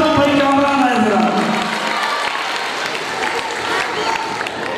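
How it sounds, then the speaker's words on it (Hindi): An audience at a Christmas gift event for children applauds in a sustained wash of clapping and cheering, with crowd voices mixed in. "तो ताली देना जोरदार, जोरदार ताली"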